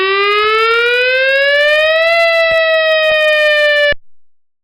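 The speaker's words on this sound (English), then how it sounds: "Here is what the wailing siren sounds like." Loud wailing industrial plant emergency alarm siren, a steady electronic tone that slowly rises and falls in pitch for about four seconds before cutting off abruptly, heard alone.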